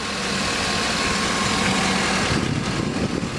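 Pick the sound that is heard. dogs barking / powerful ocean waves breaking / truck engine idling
truck engine idling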